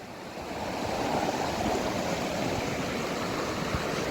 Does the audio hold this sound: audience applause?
no